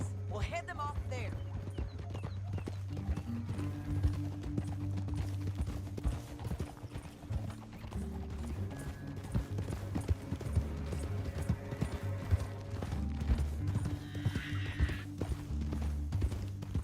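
Horse hooves clip-clop steadily in Red Dead Redemption 2 as riders move through a canyon, a continuous rhythmic trotting under game music, with characters talking over it and a brief whinny.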